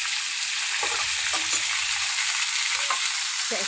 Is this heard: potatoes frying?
yes